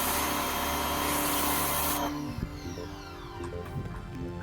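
A Gardenstar 165 pressure washer runs with its turbo nozzle, giving a loud, steady broadband hiss and motor drone that drops to a quieter rumble partway through, with a few light knocks near the end.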